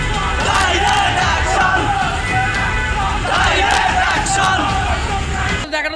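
Crowd of protesters in a street procession in Dhaka, a loud dense roar of many voices shouting and chanting together, continuous and close throughout.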